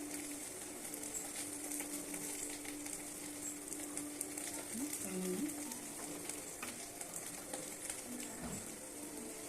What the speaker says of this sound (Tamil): தாளிக்கிறது தேங்காய் எண்ணெய் போட்டுக்கலாம்.